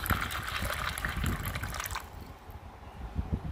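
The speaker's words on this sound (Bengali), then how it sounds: "এখন জল ঝরিয়ে নেব পরে আবারও কিছু পরিমাণ জল এর মধ্যে দিয়ে দেব" Water drains off soaked raw chickpeas in a steady, close pouring trickle that stops partway through, leaving quiet background.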